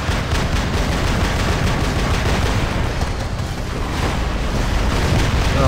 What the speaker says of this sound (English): I'm going to try to use my rockets against him